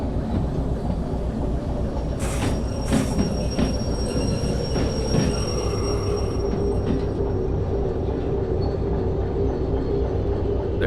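A train slowing down in the VR railway game Derail Valley, with a steady rumble of rolling wheels, rail clatter and occasional squeals and clanks, continuous throughout.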